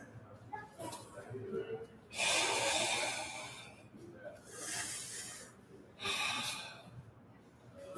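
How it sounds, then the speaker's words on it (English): Deep breaths drawn in and pushed out during a beginner taekwondo class, three long airy hisses in a slow rhythm, close and fairly loud, with faint voices in between. "deep breath in"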